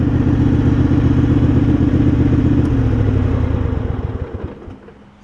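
Thirty-year-old Craftsman garden tractor with a freshly cleaned carburetor, its small engine running with a steady chugging clatter close by, then winding down and fading to a stop near the end.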